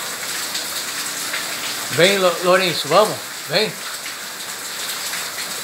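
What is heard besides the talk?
rain falling while a parrot bathes in it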